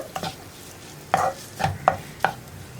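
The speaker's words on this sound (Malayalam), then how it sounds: "ചോറിലേക്ക് മുട്ടയൊക്കെ നന്നായിട്ട് മിക്സായി വരുന്ന രീതിയിൽ ഒന്ന് ഇളക്കി കൊടുക്കുക." Egg is stirred into rice in a pan for mutta pappadam choru, with a handful of sharp spatula taps and scrapes against the pan over a faint background sizzle, spaced irregularly, with no talking.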